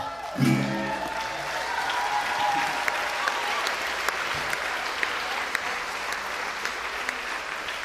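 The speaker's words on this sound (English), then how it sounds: "stop clapping" A storytelling festival audience breaks into applause, a loud burst at the start that settles into steady sustained clapping with scattered sharper claps standing out, continuing throughout.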